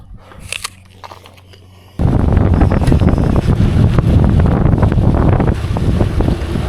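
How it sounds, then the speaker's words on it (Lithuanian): Wind picks up on a long gravel bike ride and suddenly turns into a loud, steady rumbling roar against the microphone after a quieter opening. "Kyla vėjas."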